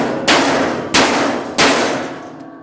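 Three loud metallic clangs from a sledgehammer striking the sheet metal of a washing machine being scrapped, evenly spaced and close, each ringing briefly before the next blow.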